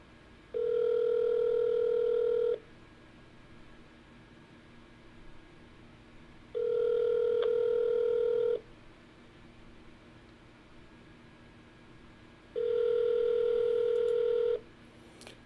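A phone call to a scammer rings out as three long, evenly spaced ringback tones about two seconds each, with quiet room hiss between them and no speech.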